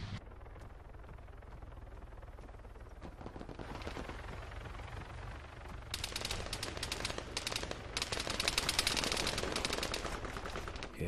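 Distant gunfire in the Arma 3 King of the Hill mode, with scattered single shots early on, then dense rapid bursts from about six seconds onward, crackling and moderately loud against a steady battlefield background.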